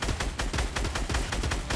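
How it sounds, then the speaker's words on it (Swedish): Rapid gunfire in the Fortnite video game, a steady run of about a dozen sharp, evenly spaced shots, loud and close with no talk. "jag fick han med ett skott"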